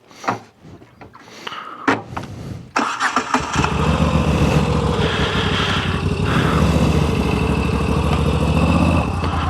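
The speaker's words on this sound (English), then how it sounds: "So let's turn our bike back on." Moto Guzzi V7 Stone Corsa motorcycle starting in a park: a few clicks and a starter whir, then the engine catches and settles into a steady, loud, throbbing idle close by.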